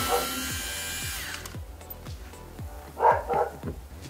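A power tool with a Torx 25 bit backs out the window motor screws inside a Ford Fiesta Mk7 door, giving a steady whirring buzz for about 1.5 seconds, then a few short, louder bursts near the end.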